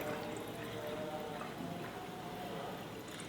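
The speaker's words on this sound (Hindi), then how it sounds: "अब मैं इस घोल को स्प्रेयर में भर लिया।" Homemade pesticide solution for mealybugs is poured into a sprayer, a steady, soft liquid pouring and gurgling that runs quietly and continuously, with no voices.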